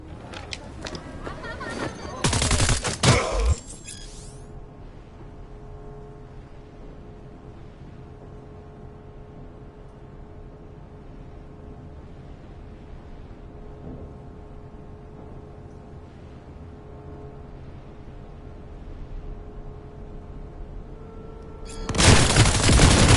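Bursts of gunfire from the video game Cyberpunk crackle loudly near the start, then give way to a long low hum before another loud burst of shots closes the stretch.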